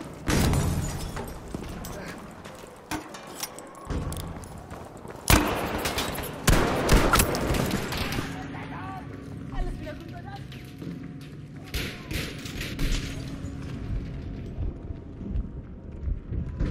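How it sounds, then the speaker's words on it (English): A thrown grenade bursts with a deep boom amid steady Battlefield V rifle and machine-gun fire, while soldiers' voices call out over the ongoing combat noise. "Lobbing grenade!"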